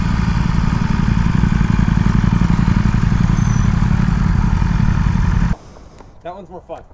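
Sport motorcycle engine held against the rev limiter, a loud, steady, buzzing high-rev drone with rapid stuttering pulses lasting several seconds, then cutting off abruptly before a voice speaks.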